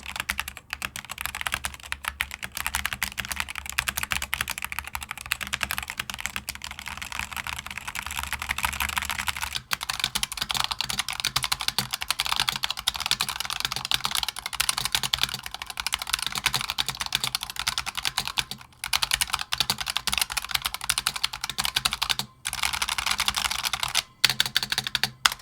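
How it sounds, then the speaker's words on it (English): Continuous brisk typing on a SteelSeries Apex Pro TKL mechanical keyboard with OmniPoint switches, dense clicky keystrokes close up with a few brief pauses, no voices. "Sound-wise, I feel like the OmniPoint switches are a lot smoother."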